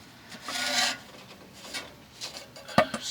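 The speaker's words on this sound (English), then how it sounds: "And I want to slide the front shaft in. It's got splines on it" A Ford Ranger's splined front drive shaft slides back into place with rough metallic rubbing and scraping, a longer grinding push followed by a few short knocks as it seats.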